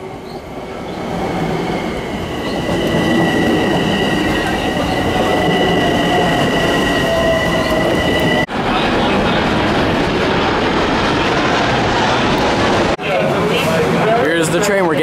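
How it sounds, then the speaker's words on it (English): A train carrying fans to a New York Mets baseball game rumbles loudly and steadily, with ringing wheel squeals and metallic clatter, as voices mix into the noise and the sound shifts abruptly twice. "The train we're getting on to get to the game."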